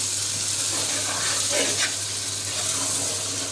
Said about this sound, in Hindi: अब इसको 2 से 3 मिनट के लिए जब हम फ्राई करेंगे तो ये अच्छे से घी छोड़ देगा